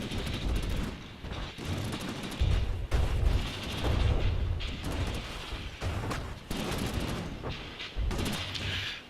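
A missile barrage in From the Depths rumbles through repeated heavy explosions, a dense run of booms and blasts rolling continuously for several seconds, loud and sustained with no talk.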